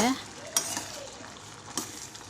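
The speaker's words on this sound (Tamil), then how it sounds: "நல்லா உடஞ்சி வரணும். கொஞ்சமாக மசிச்சு விடுங்க," Cooked pumpkin and cowpeas for Kerala erissery are mashed in a pan, giving soft, fairly faint squelching and a couple of sharper spoon-on-metal knocks over a low sizzle.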